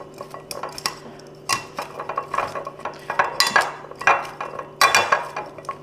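Parsnip fries being tossed with olive oil in a small bowl, a utensil clinking and scraping against the bowl in irregular bursts of clatter, close and fairly loud, with no talking.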